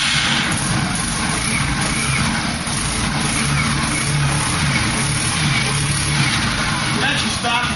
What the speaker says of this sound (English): let you hear the scooter, how it sounds itself with the stock exhaust.